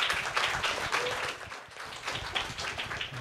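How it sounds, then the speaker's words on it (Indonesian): Audience applause breaks out at an IKA FH UNPAD alumni gathering, a dense, steady wash of many hands clapping that holds for about three seconds with no break. "Beri tepuk tangannya yang meriah."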